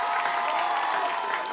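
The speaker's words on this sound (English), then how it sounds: "Round of applause for them." Audience applause at a high school quiz championship, a steady dense wash of clapping from a crowd filling the whole brief moment, loud and continuous with no voices over it.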